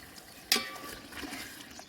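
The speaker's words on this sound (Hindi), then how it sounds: "ये मैं तकरीबन आधा गिलास है पानी का, ये इसमें शामिल करूँगी" A short splash of about half a glass of water poured into a pot of turnip and meat curry, a sharp onset then a soft trailing sizzle, quiet and close.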